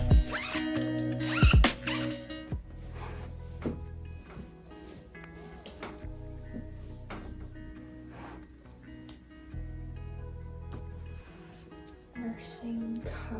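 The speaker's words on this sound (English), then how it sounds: "Let's just zip these up." Zipper pulled closed on baby clothes being sorted for decluttering, several quick rasping zips in short bursts at close range, with soft handling rustles between them and no talking.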